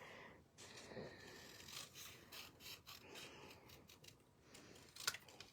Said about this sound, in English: I think I'm going to need to trim this end down here.